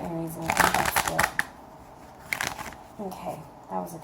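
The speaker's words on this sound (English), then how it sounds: "Okay, that was a good shuffle." Quick riffling and soft slapping of tarot cards being shuffled close by, in a few short bursts, with a voice speaking briefly between them.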